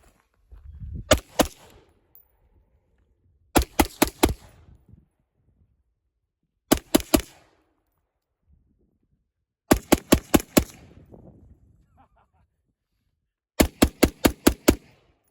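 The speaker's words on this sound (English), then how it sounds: "Today we are shooting the Smith & Wesson M&P 15." Five quick bursts of rifle fire from a Smith & Wesson M&P 15 Sport 2 AR-15 with an Aero Precision Atlas R1 15-inch handguard, shooting Winchester M193 5.56 ammunition, each volley a tight string of three to five sharp cracks separated by pauses of a few seconds.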